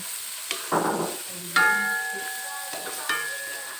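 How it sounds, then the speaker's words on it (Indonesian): Shallots dropped into hot oil for a home-cooked salted squid with green chili dish, short bursts of close sizzling and crackling with some metallic clinks of a utensil against the pan. "minyak udah panas, kita masukkan bawangnya"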